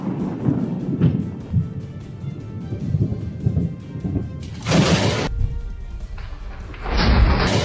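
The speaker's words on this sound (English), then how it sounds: "Lightning bolts slammed into the roadside as traffic rushed by" Thunder from lightning bolts striking beside a roadside on city outskirts with traffic passing: low rumbling and thudding throughout, with two loud sharp cracking bursts later on.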